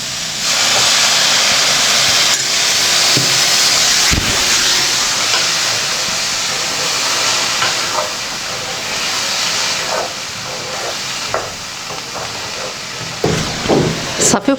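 Water poured into a hot pot of vegetables and lentils sizzles into a loud, steady steam hiss right away, then eases slightly, with faint clinks and scraping near the end and no voices.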